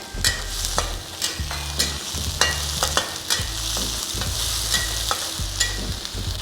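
Spring onions and mushrooms being stir-fried for kimchi fried rice: a steady close sizzle broken by repeated scraping strokes of the spatula against the pan, with no voices.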